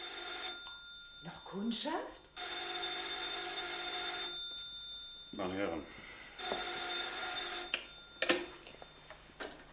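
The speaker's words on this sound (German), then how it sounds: "als das Telefon uns nachschrillte" A telephone rings in loud, repeated electric bursts, several long rings separated by pauses, while someone speaks briefly between them.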